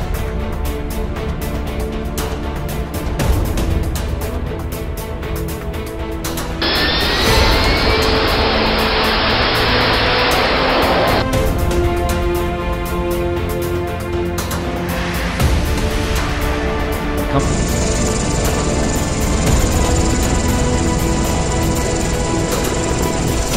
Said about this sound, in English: performed smooth takeoffs and precise landings on short, narrow runways